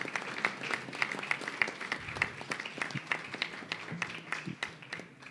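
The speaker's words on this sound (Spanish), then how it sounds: "Aquí sí les pido un sonoro aplauso para todas estas personas" Audience applause at an arts salon ceremony in Antioquia, a modest crowd clapping steadily with distinct individual claps, fairly faint and at a distance, fading toward the end.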